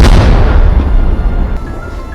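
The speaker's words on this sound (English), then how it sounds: "Although the explosion was quite successful" Buried explosives detonating on a mountainside, one loud booming blast at the start that rumbles and slowly fades over about two seconds.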